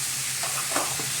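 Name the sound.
stirring ivy gourd fry in a pan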